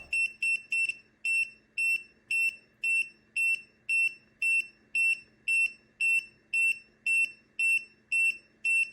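A TopTes PT760 rechargeable natural gas leak detector sounds its alarm in a quiet house, sending out a rapid series of sharp, high-pitched electronic beeps in regular bursts, loud and close with no talking.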